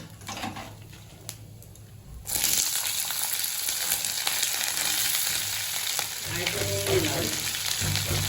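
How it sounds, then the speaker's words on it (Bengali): Carrots, beans and potato sizzle and crackle in a pan, the hiss jumping louder after a couple of seconds as they hit the oil, then frying steadily. "গাজর বিনস আর এই যে একটু আলু এটা একটু ভেজে নেবো"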